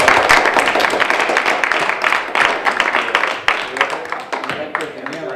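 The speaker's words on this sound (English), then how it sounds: "Give a round of applause to the cast who did a really good job" A theatre audience applauds the cast after a performance of the stage play The Domestic Crusaders, with dense, sustained clapping from many hands that fades slightly toward the end as voices speak over it.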